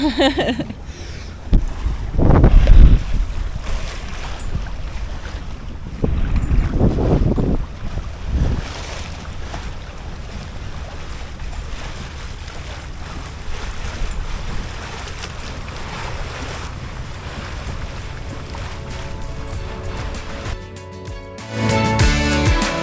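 A sailboat under way at sea off Southern California in fine weather, with steady wind rush and water wash around the hull, a few louder gusts buffeting the microphone early on, no talking.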